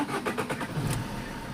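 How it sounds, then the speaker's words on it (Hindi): A Chevrolet Sail car's engine cranks with rhythmic pulses and then catches, settling into a running idle, close and fairly loud. "तो गाड़ी स्टार्ट हो गई है।"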